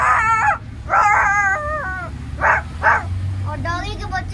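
An eight-year-old boy mimics a dog with his voice, giving a string of yelping barks, whimpers and drawn-out howls in short bursts close to the listener.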